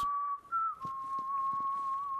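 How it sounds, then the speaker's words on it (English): A character in the video game Borderlands 3 whistles to a clutch of eggs: a clear, steady high whistle that wavers briefly, then holds one long, even tone, alone and fairly close. "You're whistling to the eggs."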